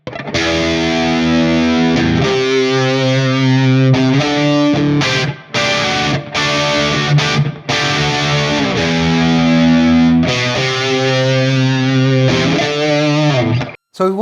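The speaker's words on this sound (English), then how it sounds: "And then we have the dirty sound." Distorted, dirty electric guitar tone from a ToneX ONE pedal preset, loud crunchy chords strummed in bursts with brief gaps between phrases, played alone without speech.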